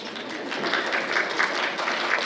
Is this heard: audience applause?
yes